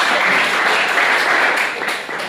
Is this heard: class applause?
yes